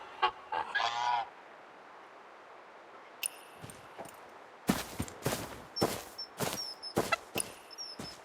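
Geese honking in the video game Where Winds Meet, a few quick nasal honks at the start, then a burst of loud, overlapping honks and flapping clatter in the last few seconds.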